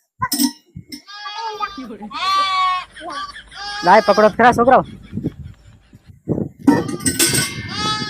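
Goats bleat loudly and repeatedly nearby, their calls overlapping with people shouting to one another.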